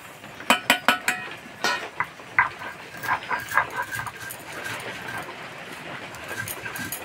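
Fried spices are being ground with sharp clinking strikes, quick and bright at first, then a looser train of tapping and grinding knocks that fades into a softer scraping rhythm, with no talking.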